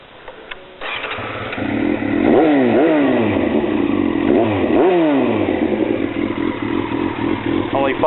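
A 1996 Yamaha YZF600R custom streetfighter sportbike, about 95 rear-wheel horsepower, cranks and fires up, then revs in repeated sharp rising blips over a loud, steady idle, close by.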